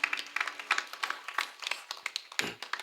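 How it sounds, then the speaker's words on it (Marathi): A crowd claps at a religious discourse gathering, with irregular hand claps spread across the moment, fairly close and lively, without any talk over them. "वाजवा एकदा जोरदार टाळी वाजवा त्यांच्यासाठी"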